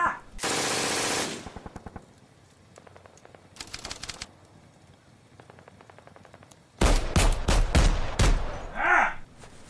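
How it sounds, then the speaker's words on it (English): Sound-effect bursts of rapid gunfire as German Grenadiers open fire on a mortar team in a WWII tabletop battle: a loud sustained automatic burst, scattered shorter volleys, then a heavy closing barrage. "the Grenadiers open fire on the mortar team"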